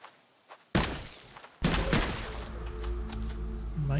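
Gunfire in the survival game Oooga Booga Dino Survival, heard as a sudden loud burst followed by a second sustained barrage of shots with a steady mechanical hum underneath, fairly close and without talk.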